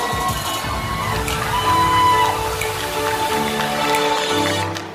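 Wedding guests applaud and cheer indoors for the couple's grand entrance, a dense rain-like patter of clapping with scattered shouts over music, sustained and loud.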